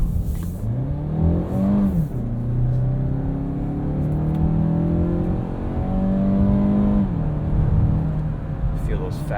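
A 2017 Mazda CX-5 Grand Touring FWD engine in sport mode climbs in pitch under acceleration, dips briefly at quick gear shifts and then rises again, a steady cabin drone with a driver talking over it.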